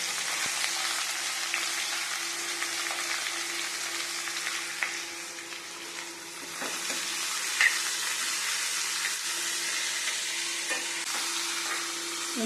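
Onion pieces fry in a pan for a bitter gourd pulusu, giving a steady, even sizzle with occasional crackles and light stirring clicks, close and continuous.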